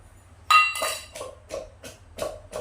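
Garlic is pounded in a mortar with a pestle, six or so sharp, hollow knocks in an irregular rhythm. The first strike is the loudest, and the clicks that follow are clear and close.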